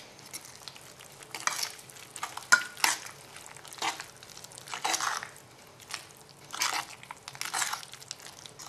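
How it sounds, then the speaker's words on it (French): Chopped strawberries are gently folded into quinoa muffin batter, making soft wet squelching strokes in repeated slow sweeps, close and fairly quiet. "on ajoute les fraises découpées en morceaux"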